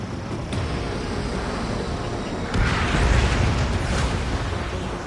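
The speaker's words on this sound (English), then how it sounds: "Enemy bomber down." An enemy bomber blows apart in Ace Combat 7, a broad rumbling burst that swells out of steady jet-engine roar and lingers as a dull, sustained boom.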